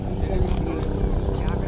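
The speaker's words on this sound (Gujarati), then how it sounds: "હેલિકોપ્ટર આવી ગયું છે" A helicopter arrives to land at a water-sprayed helipad at a wedding celebration. Its steady rotor drone runs through the whole clip, with people talking over it.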